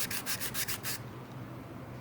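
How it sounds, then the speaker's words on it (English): A small sander works a piece of deer antler for a firestick handle in a rapid burst of rhythmic, gritty rasping strokes for about a second, then falls to quiet room noise. "get yourself a little sander like this. And after you cut it, just sand it down nicely."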